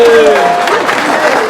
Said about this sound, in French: On l'applaudit bien fort, s'il vous plaît.